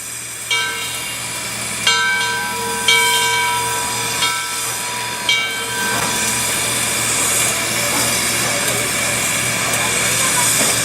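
Steam locomotive 630 working a train at the Tennessee Valley Railroad Museum, with a steady hiss and rumble, a few sharp chuffs or clanks early on and sustained whistle-like tones, fairly near and continuous.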